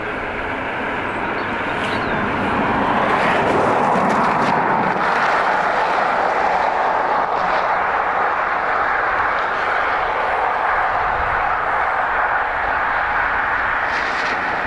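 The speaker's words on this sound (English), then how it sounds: "shocking amount of biz jets taking off behind me" A steady, loud roar of business jet engines rises at Dublin Airport, a broad sustained rumble that swells slightly early on and holds without talk.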